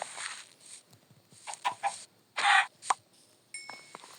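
A few short clucking chicken calls from an island survival video game, scattered and fairly quiet, with faint background noise between them.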